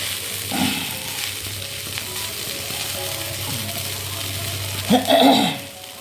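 Leftover puttu and egg stir-fry in a hot pan with a continuous loud sizzle, with clattering spoon strokes near the start and a louder burst of stirring near the end.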